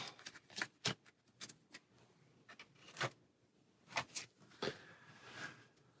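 Cards of the Shadows of Brimstone board game shuffled by hand, a quiet series of short riffling bursts and snaps at irregular intervals with no talking.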